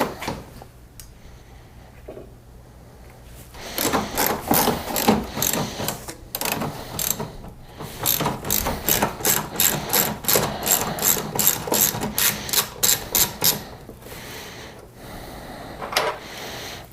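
Hand ratchet backing out 10mm bolts from the upper cover on a wrecked Dodge Dart, heard as long runs of rapid close clicking with brief pauses and a few mechanical clunks.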